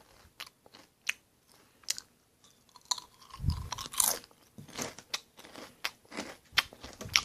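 Roasted seaweed flavor Pokachip potato chips crunched and chewed close up in a series of sharp, irregular bites and crackles, with a quiet pause between bursts and no talk.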